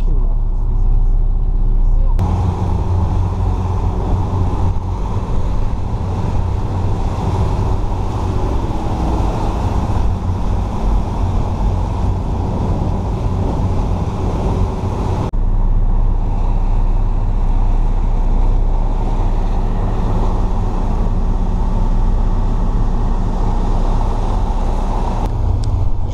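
A boat cruises at about 7 to 8 knots in open water near the Île de Ré bridge, bound for Île d'Aix. A loud, steady engine drone and rushing water continue without a break throughout.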